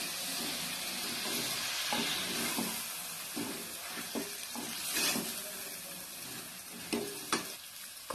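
Ripe chopped tomatoes sauté in a pan for turkey biryani, a steady broadband sizzle with intermittent scraping strokes of a spoon stirring through, close and moderately loud, no talk.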